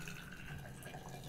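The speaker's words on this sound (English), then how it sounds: "I'm going to add 2 cups of hot water." Hot water is poured into a container while mixing a borax solution for a science craft, giving a steady, fairly quiet liquid trickle and splash that runs unbroken with no talking.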